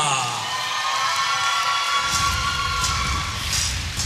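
A big crowd at a Polaris Tanto jiu-jitsu event cheers as a fighter enters the mat: sustained, loud cheering, whoops and shouts that continue throughout and grow fuller halfway through.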